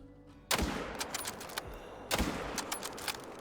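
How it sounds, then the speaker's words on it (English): Two sharp rifle shots ring out about a second and a half apart in the hunting game theHunter: Call of the Wild, fired at roe deer, each with a loud crack followed by a brief echoing tail and faint clicks in between. "we're gonna shoot the big one first, then the level 2"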